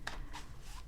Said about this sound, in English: Let's give it like just a little shuffle so we can see how it feels.